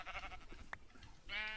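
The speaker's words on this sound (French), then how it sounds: "Oh, il y en a beaucoup en fait des moutons." Sheep bleating in Minecraft with the Millénaire mod, two short wavering bleats close by over a soft background hiss.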